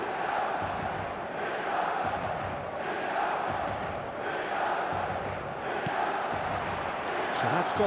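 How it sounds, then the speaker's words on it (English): A stadium crowd in an eFootball match roars and chants in steady, swelling waves throughout, loud and continuous, with no voices standing out above it. "This crowd doesn't do ordinary, and we should be in for something very special."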